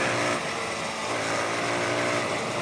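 A TVS Apache RTR 180 motorcycle engine revs in Pokhara, Nepal, giving a loud, steady, buzzing engine drone held throughout, with no voices.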